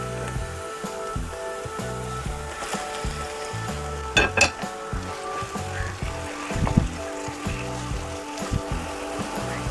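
Minced meat for a lasagna sizzles in a pan over onion and cabbage, a steady close hiss with a few sharp clinks of a utensil against the pan, backed by quiet music.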